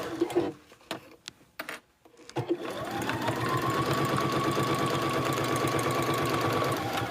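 A sewing machine back-stitches the seam of a boxy bag, opening with a few scattered handling clicks and taps before the motor runs steadily and loudly for several seconds in a continuous, even whir.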